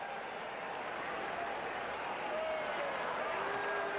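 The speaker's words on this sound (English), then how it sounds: "Big crowd here. They will remember this day for a long, long time." A big crowd at the 1995/96 Sheffield Shield cricket final, South Australia against Western Australia, applauds in a steady, distant-sounding roll of clapping that swells slightly toward the end, with commentary talk underneath.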